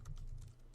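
Soft, close keystrokes on a computer keyboard as code is entered, a quick run of light clicks over a brief moment.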